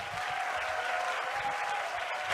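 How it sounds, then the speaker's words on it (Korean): A church congregation at a combined worship service claps to welcome a pastor, a steady wash of applause at moderate volume, even and unbroken for a couple of seconds without speech. "박수로 환영하겠습니다."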